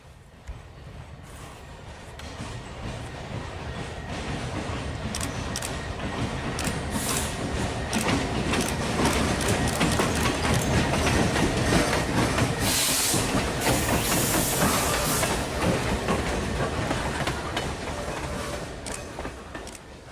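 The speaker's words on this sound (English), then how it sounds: "G51 passed by with a single Canadian Pacific boxcar in tow" A Canadian Pacific freight train hauling a single boxcar rolls past close by, a steady rumble with rhythmic clicking of wheels over rail joints that swells toward the middle and eases off at the end.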